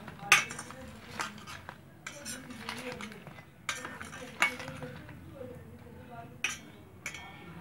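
A spoon scrapes and clinks against a pot while laddus are stirred into sugar syrup, giving irregular metallic taps and soft sticky stirring, close and moderately loud with occasional voice nearby.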